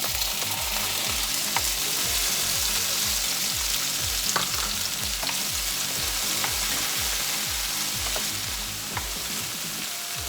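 Tomatoes sizzle steadily in a hot pan, destined for a fried milkfish in black bean sauce, with a dense continuous crackle and occasional louder pops up close, no voices.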